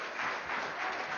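A brief burst of audience applause at a public hearing, a short dense patter of many hands clapping, moderately faint and heard alone.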